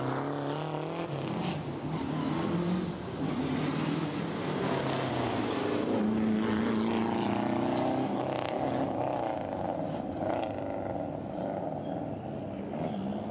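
A Lancia Group B rally car runs an evening super-special stage at Goodwood SpeedWeek, its engine roaring continuously and rising and falling in pitch as it drives past.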